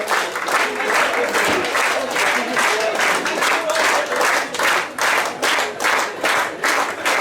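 Sustained applause from a crowd for the ESBF professional women's handball team at its season presentation, loud and fairly rhythmic clapping that swells and dips in waves over several seconds.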